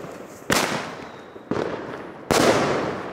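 Three loud New Year's Eve firework bangs go off one after another, each a sharp crack followed by a rumbling decay, close by and with no talking over them.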